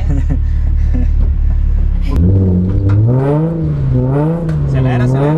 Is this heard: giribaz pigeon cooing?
no